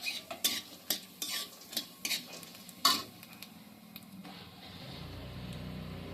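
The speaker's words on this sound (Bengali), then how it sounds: "একটু ভেজে নিচ্ছি। দিচ্ছি একটু গোটা জিরে," Whole cumin seeds frying in a pan for a pea dosa, scattered sharp clinks and stirring scrapes over a soft sizzle that grows steadier toward the end.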